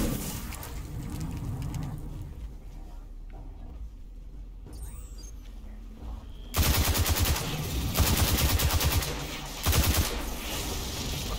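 Automatic gunfire in the Destiny 2 video game, loud rapid bursts of shots after a quieter stretch, close and dense with short gaps between volleys.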